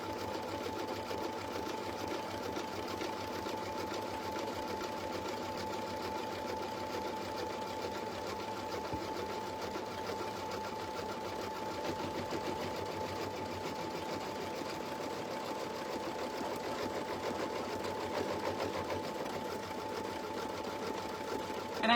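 An embroidery sewing machine stitches an in-the-hoop slap bracelet at low speed, a steady close mechanical whir with a constant hum and rapid even needle rhythm running without a break.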